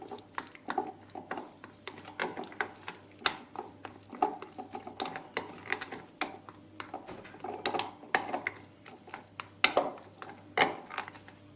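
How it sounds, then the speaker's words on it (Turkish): Repeated light clinks and scrapes of a utensil against a bowl while stirring sauce for chicken sauté, a steady stirring rhythm at close range with no talking. "Bunları güzelce karıştıracağım arkadaşlar sotemizin sosu olacak"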